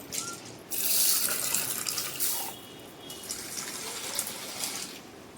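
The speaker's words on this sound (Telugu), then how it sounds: "ఒక్కటికి 2 సార్లు శుభ్రంగా కడిగేసి వాటర్ వేసి వదిలేద్దాం." Water pours and splashes as soaked chana dal and moong dal are rinsed in a bowl, with a louder gush early on, then a steady, softer trickle. Nearby and clear, with no talking.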